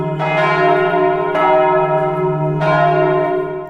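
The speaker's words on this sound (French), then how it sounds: "j'entends les cloches" Church bells ring out in three strong, evenly spaced strikes, each leaving a long, rich humming tail that carries through the whole stretch with no talking.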